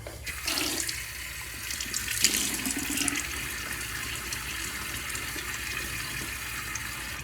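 A bathroom faucet runs steadily into the sink as the face is wetted before a shave, a close, continuous splashing stream lasting throughout with no talk.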